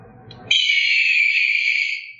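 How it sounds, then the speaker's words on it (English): An electronic hawk call from a waterproof remote dog trainer beeper collar: one loud, shrill, sustained screech that starts abruptly and fades after about a second and a half, heard up close and alone. "The 7th is a hawk."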